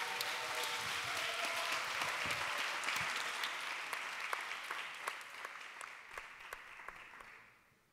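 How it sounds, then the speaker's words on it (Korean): An audience at a church worship talk concert applauds to welcome a trio back to the stage. The dense, sustained clapping holds steady, then thins and fades toward the end. "우리와 같은 박수로 모시겠습니다"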